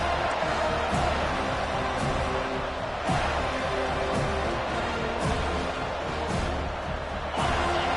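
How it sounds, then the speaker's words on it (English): A football stadium crowd roars loudly and continuously, a dense sustained wall of cheering with occasional sharper peaks rising out of the din. "This crowd, full throat, splitting the eardrums"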